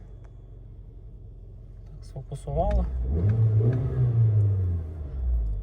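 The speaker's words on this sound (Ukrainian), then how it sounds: "Давайте запустимо двигун. Двигун запускається чудово" A Volkswagen Touran 1.6 MPI petrol engine cranks and catches, then settles into a steady rumbling idle with a slight rev, close by, while a person talks over it.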